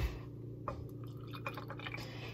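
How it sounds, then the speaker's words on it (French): Water poured into a container holding a carbonate solid to make a solution, a faint, soft trickle with scattered small splashes and drips, close but quiet over a low background hum. "Et on va mettre de l'eau dedans."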